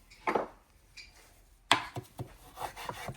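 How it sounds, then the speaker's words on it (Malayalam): A knife chops food finely on a cutting board in a home kitchen, with a few short, scattered bursts of cutting strokes close by and quiet pauses between them, no talking. "കുരുകുരുന്ന് അരിയണം ചെറുതായിട്ട്."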